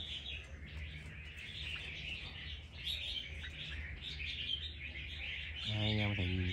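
Wild-caught red-whiskered bulbuls from Lạng Sơn sing in quick, bright chirps and trills that repeat at moderate volume over a low background hum, with a short burst of voice near the end.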